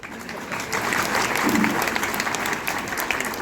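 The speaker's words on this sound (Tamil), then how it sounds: "சுமாராக இருக்கு கைத்தட்டு." Steady applause from a seated audience at the opening ceremony of a Thyagaraja Aradhana music festival, a dense wash of clapping that swells slightly and holds at moderate loudness throughout.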